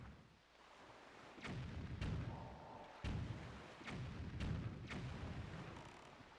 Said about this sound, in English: Used 100 bombs on stuff I didn't have to destroy.